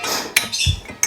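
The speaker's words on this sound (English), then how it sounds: "Put that lid back on." A metal lid set back onto a pot while making rhubarb candy, two or three quick clinks and a dull clank, close and fairly loud.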